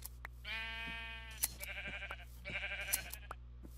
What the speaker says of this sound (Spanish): A la madre, ¿cuántas ovejas hay aquí?